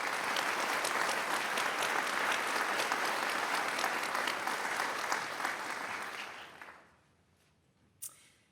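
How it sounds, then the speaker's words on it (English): An audience at a pharmacy school white coat ceremony applauds in a sustained, even wash of clapping that holds for about six seconds before fading out, followed by a single faint sound. "Let's give them a round of applause."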